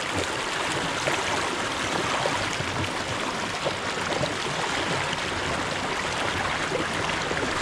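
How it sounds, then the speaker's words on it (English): Clear, shallow creek water ripples and babbles steadily over stones on King Parrot Creek, a continuous close rushing wash with no voices. "water's nice and clear, so get some ripple footage"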